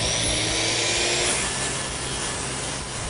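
A power saw cuts through a sheet of plywood braced on sawhorses, giving a steady, loud, rasping whine that runs unbroken from start to finish with no talking.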